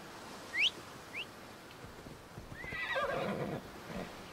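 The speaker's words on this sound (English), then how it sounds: "So no matter where you are, does your horse show up?" A horse whinnies in the video game Assassin's Creed Odyssey, with two short high calls near the start. A longer, louder neigh with background game sounds follows toward the end.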